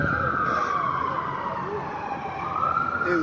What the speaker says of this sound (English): It was just an ambulance.